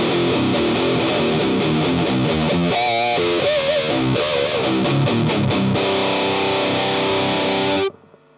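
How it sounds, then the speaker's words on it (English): An electric guitar plays through a TC Electronic Fangs metal distortion plugin: heavily distorted chugging riffs and sustained chords, loud and steady, ending abruptly in silence. "Let's see if we can make it sound pretty rad with this Fangs distortion."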